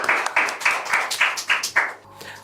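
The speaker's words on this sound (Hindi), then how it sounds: "एक बार जोरदार तालियों के साथ स्वागत" Audience applause welcoming a poet on stage at a poetry recital, a burst of crowd clapping in rhythmic waves that fades out after about two seconds.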